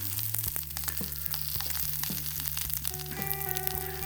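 Tacos frying in coconut oil in a pan, a steady close sizzle running the whole time, with a low steady hum underneath and a few clinks near the end.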